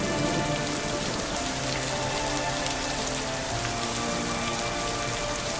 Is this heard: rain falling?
yes